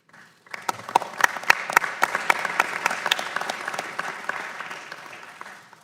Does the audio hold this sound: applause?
yes